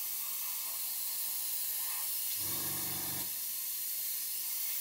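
A short burst of airbrush spray hisses for about a second over a steady background hiss, starting and stopping abruptly, as paint is sprayed lightly onto a 1/48 scale Airfix Sea King model.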